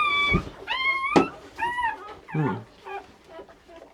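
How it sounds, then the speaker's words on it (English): A newborn puppy from a litter of nine cries with repeated high, wavering whimpers and yips, close and fairly loud, with short pauses between calls. "So there are 9 pups. One is crying."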